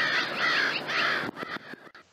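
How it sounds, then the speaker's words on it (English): Crows caw harshly outdoors near a hunting spot, a few loud drawn-out calls followed by shorter choppy caws and rustling. "Crow, I think."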